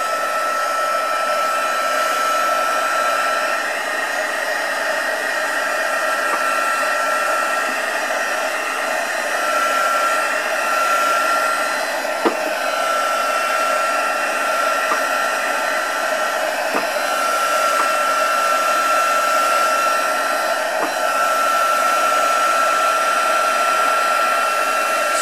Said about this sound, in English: and my heat gun